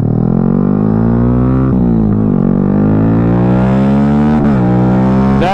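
A Yamaha Y15ZR motorcycle with a dry clutch revs hard at high RPM while climbing Bukit Langat. The engine drone is loud and close, with its pitch dipping and rising between shifts and no talking.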